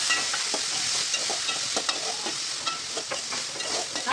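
Onions and tomatoes sauté in a pan for country chicken curry, a continuous close sizzle broken by frequent soft stirring scrapes and clicks, no talking.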